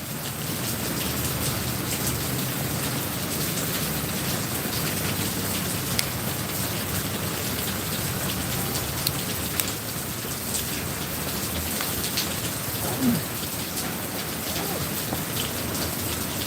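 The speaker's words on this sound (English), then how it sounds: "it's raining pretty damn good" Heavy rain pours steadily in Danang, Vietnam, a dense continuous hiss of drops drumming on surfaces with no break, close and loud throughout, with a few sharper individual splats standing out.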